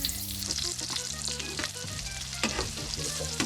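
Wild turkey fries in a pan with olive oil and white wine vinegar, giving a steady, close, crackling sizzle throughout, with occasional brief pops and scrapes as the meat is stirred.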